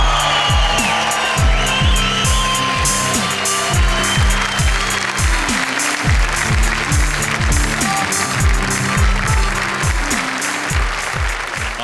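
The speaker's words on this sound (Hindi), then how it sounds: "आपकी तालियां सुनकर" Audience applause fills a poetry recital hall, a steady dense clapping sustained loud throughout with no voices over it.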